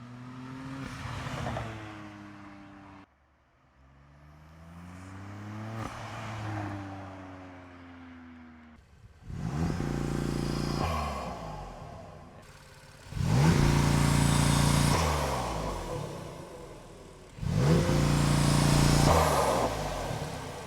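A BMW M4 fitted with an Eventuri intake accelerates through the gears on the road, its engine note rising and falling in repeated pulls, growing louder and harsher with each burst before shifting.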